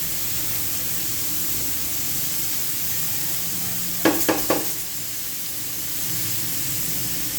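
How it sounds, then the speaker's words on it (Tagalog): A pressure cooker releases steam in a home kitchen with a continuous broad hiss. A short cluster of sharp clicks or rattles breaks in midway. "Pressure cooker."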